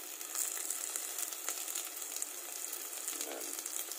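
Garlic sautés in hot oil for a barracuda sinigang, giving a steady, close, bright sizzle with small crackling pops throughout and no voices.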